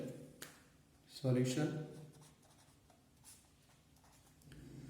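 Pen scratching on paper while a chemistry solution is written out, soft scribbling close by, partly under a speaking voice.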